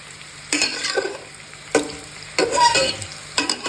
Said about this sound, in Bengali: এবার একটু মিশিয়ে আলতো হাতে ভালো করে মিশিয়ে